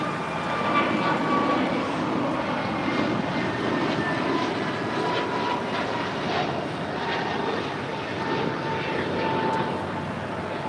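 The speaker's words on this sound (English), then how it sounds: "That was American 1225 departing to Philadelphia on an A321neo." An American Airlines A321neo jet departs for Philadelphia, its engines a steady, broad roar that holds at a constant level across the whole stretch with no clear build or fade.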